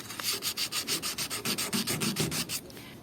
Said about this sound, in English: I think this will take me maybe a week or several days to sand